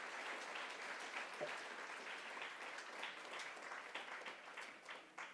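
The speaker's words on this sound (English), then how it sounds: "So a big round of applause for the people that pay for all this good stuff" An audience at a Newfoundland and Labrador underwater robotics competition claps steadily for the event's sponsors, a dense, continuous applause heard from some distance that tapers slightly near the end.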